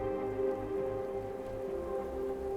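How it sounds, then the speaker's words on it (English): Steady rain in the South of the Circle video game, a soft continuous patter with a low rumbling undertone, moderately quiet and unbroken throughout. "The rain."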